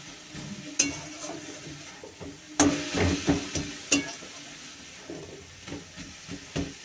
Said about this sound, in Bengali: এবার শাকটাকে ভালো করে নাড়বো